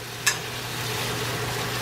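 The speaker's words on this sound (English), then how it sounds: "Let me go over here and get this bacon flipped over." Canadian bacon frying in a pan as it is flipped gives a steady, soft sizzle and hiss throughout, broken once early by a brief sharp click, with no one talking.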